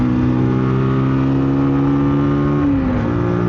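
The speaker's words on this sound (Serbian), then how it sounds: "airboxa, ima onako fin neki zvuk te indukcije" A Zontes G1 Scrambler motorcycle engine drones loud and steady with a humming intake note, then the pitch drops slightly as the revs ease off near the end, heard close up and with nobody talking.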